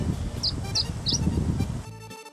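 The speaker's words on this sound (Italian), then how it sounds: "si può sentire anche il bellissimo canto di un uccellotto" Small bird singing in the Gomera countryside, three short bright chirping phrases in a row over a steady engine rumble from a bus, the song fairly clear but not close.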